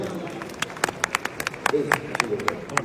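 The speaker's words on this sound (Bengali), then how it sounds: "অভিনন্দন কিয়া পায়েলের জন্য আবারও জোরে একটা হাততালি" A short burst of hand clapping at a celebration of an award, scattered claps from a small group over about three seconds, with people talking over it.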